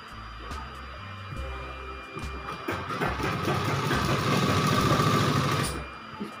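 A sewing machine stitches the hem of a girl's midi dress. Its motor whirs in a few short starts, then settles into a longer continuous run of fast, close stitching.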